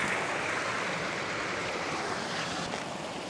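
Creek water flowing steadily in Pine Creek, San Diego, at low flow, a continuous broadband rush with no distinct splashes and no voices.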